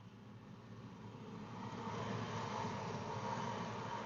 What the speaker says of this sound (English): The freight train is here, definitely. I heard it revving up, and here it comes round the corner.